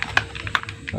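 A plastic wrapper around a measured portion of rat poison being folded over and over, giving a quick run of close, crisp crackles and ticks.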